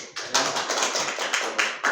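A classroom group claps together in a short burst of quick, close hand claps lasting about two seconds, brisk and fairly loud, with no voices.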